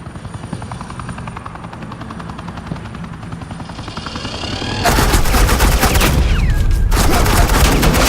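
Suppressing gunfire in the Batman Telltale game The Enemy Within, a dense rapid burst erupting loudly about halfway through over a steady helicopter rotor drone, continuous and close to the end.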